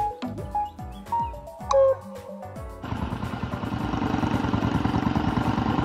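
Chirpy tonal sounds play first, then a motorcycle engine starts running and holds a steady, pulsing drone that grows slightly louder to the end.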